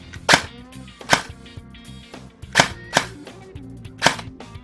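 An airsoft gun with an inline MOSFET fires single shots on semi-auto, six sharp close snaps spaced irregularly about half a second to a second apart, each with a brief mechanical rattle.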